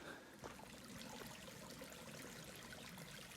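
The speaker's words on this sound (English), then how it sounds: "It's like this little rock creek." A small rocky creek along the Appalachian Trail trickles and babbles quietly and steadily, a soft continuous wash of water with no voices over it.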